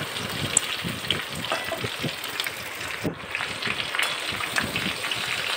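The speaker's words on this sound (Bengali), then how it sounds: "আমগুলো একটু করে নিয়ে ভেজে নিলাম।" Mango pieces frying in hot oil for a pickle, a loud, steady, dense sizzle with bubbling crackle throughout, briefly dipping once midway.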